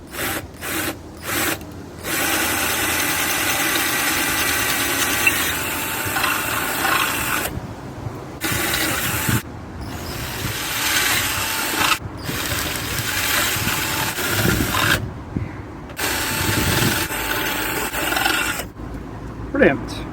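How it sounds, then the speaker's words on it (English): A drill bores holes in a front panel in repeated bursts of grinding and rasping, stopping and restarting with short pauses between runs, close and fairly loud. "And then I can start drilling out the big rectangular piece in the middle."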